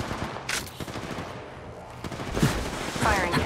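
Gunfire from a battle royale shooter, Apex Legends Mobile, with bursts of rapid shots at close range, mixed with game effects and a voice talking over it.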